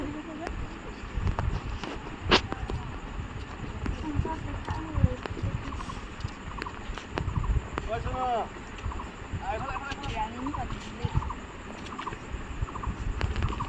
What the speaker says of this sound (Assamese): এনেকুৱা নদীৰ মাজত নাও চলাই অহাটো বহুত